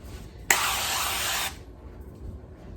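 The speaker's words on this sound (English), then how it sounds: "Use a spray to grease it." Cooking grease spray hisses onto a pie plate in one steady, close burst of about a second, followed by quiet room tone.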